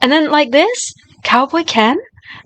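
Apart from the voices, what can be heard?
No everyday noise stands out behind the speech.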